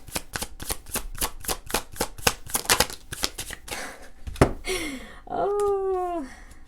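Tarot cards riffle in a quick, even run of crisp shuffles, close and clear, followed by a soft thump and a couple of brief vocal sounds.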